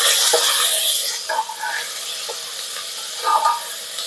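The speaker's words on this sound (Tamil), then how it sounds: "2 பச்சை மிளகாங்க, அப்புறமா ஒரு கொத்து கருவேப்பிலை எல்லாம் போட்டு நல்லா வதக்கிக்கோங்க." Onion, tomato, green chillies and curry leaves sauté in a hot pan, giving a steady close sizzle and hiss with a few soft stirring scrapes and clinks.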